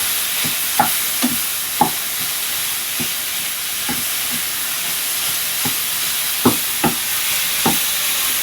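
Ground meat and vegetables sizzling in a pan while a utensil breaks the meat apart, a steady frying hiss with scattered scraping and clacking strokes.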